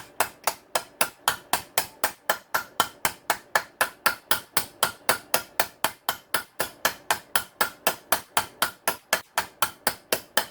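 Steady rapid metal taps from a hammer striking a bearing's outer race on a Yamaha YFZ450R engine, about four strikes per second, sharp and close, continuing evenly with no voices.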